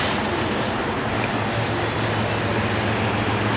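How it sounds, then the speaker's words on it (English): Three-engine CSX freight train rolling past in Montreal, a steady, dense low rumble of locomotives and rail cars, loud and continuous throughout with no talk. "I saw this train coming. Look at this, man. Fucking three CSX engines."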